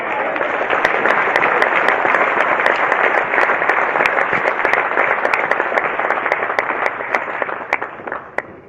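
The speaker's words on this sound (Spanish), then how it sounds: "vamos a recibir al pastor con un fuerte aplauso" A church congregation gives sustained, loud applause to welcome the pastor at a pastors' conference, with dense clapping filling the whole stretch and a few sharper claps standing out before it thins at the end.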